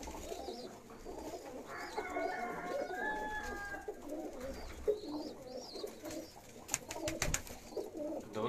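A Ferozpuri pigeon coos overhead in a repeated, soft rhythmic call, mixed with other birds chirping amid outdoor background noise.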